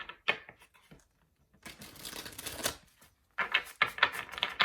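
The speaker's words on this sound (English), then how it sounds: "let's get one more shuffle here" Tarot cards riffle and snap in several quick bursts with short pauses between, close up and crisp, no voices.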